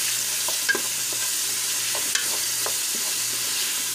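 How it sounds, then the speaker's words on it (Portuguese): Chopped jerked beef and tomato frying in a pan while being stirred, a steady sizzle with occasional spoon scrapes and clicks and a faint low hum underneath, no speech. "Aí vou mexendo aqui."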